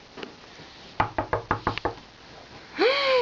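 Six quick, evenly spaced knocks on a hard surface sound close and loud, followed by a short vocal sound.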